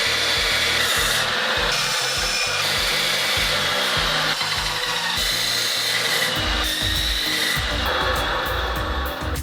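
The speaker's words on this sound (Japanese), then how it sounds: "高速カッターで切っていきます。" A high-speed cutter slices through a steel scaffold pipe with a loud, continuous grinding roar that wavers as the blade bites, filling the whole stretch without a pause.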